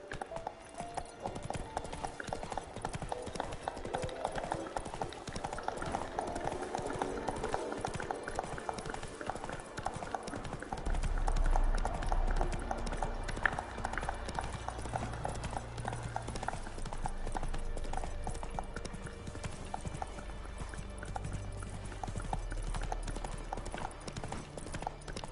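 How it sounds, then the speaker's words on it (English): Horse hooves galloping in The Witcher 3 on PS5, a steady rapid clip-clop running continuously over a dense game soundscape, with a deeper rumble joining partway through and no clear speech. "Run, Roach."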